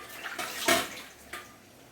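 Coconut water poured into a vessel, a couple of brief close liquid gushes and splashes over under two seconds, with no voices.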